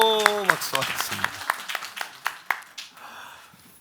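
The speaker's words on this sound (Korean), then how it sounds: "박수하겠습니다." A church congregation at a Sunday morning service breaks into clapping after a voice and sustained tones fade, with distinct, fairly sharp claps that thin out and grow quieter toward the end.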